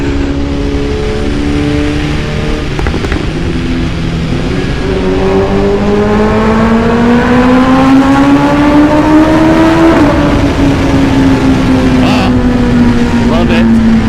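A BMW S1000RR sport motorcycle engine revving to high RPM while riding, a loud, steady roar whose pitch climbs and then drops as it shifts, with constant wind rush close to the rider.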